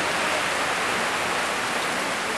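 Steady, dense rain hisses continuously, heard from inside a house, a broad even wash of falling water with no talking.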